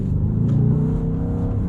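A 2022 Audi RS6 Avant, a heavy, wide performance estate driven in sport mode, gives a steady, loud engine drone with a deep, even tone that holds throughout.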